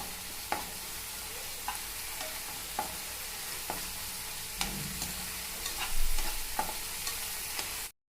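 Ginger garlic paste frying in a pan sizzles steadily, close up, while a spoon stirs it with sharp scraping clicks at irregular intervals, one heavier stroke midway.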